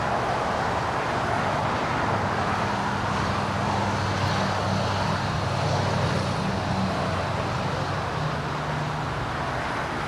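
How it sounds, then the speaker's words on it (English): Finnair Flight 3 from Stockholm on short final to runway 24 right at LAX, a broad steady roar of jet noise heard from a distance, with no voices. "Finnair Flight 3 coming in from Stockholm now in short funnel for 24 right"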